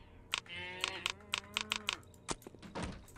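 A cow moos in the video game Postal 2, a drawn-out low call heard once, mixed with sharp clicks and taps of keyboard typing throughout.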